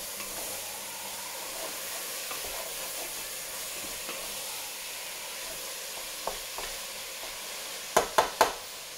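Minced meat for bolognese sauce frying in a pan: a steady soft sizzle throughout, with a few sharp scrapes and knocks of a utensil near the end.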